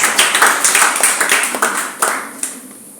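A church congregation claps for Jesus during a Sunday worship service, a dense burst of many hands with sharp individual claps, loud at first and thinning out toward the end.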